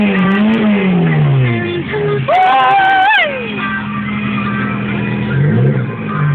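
A small car with a loud aftermarket exhaust revs close by, its pitch climbing and falling through several throttle blips over a constant engine drone.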